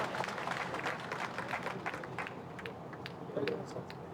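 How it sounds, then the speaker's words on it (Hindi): A crowd at a political rally claps to welcome speakers, a dense, moderately loud burst of applause with a voice talking over it. "जोरदार तालियों से स्वागत करने वाले का।"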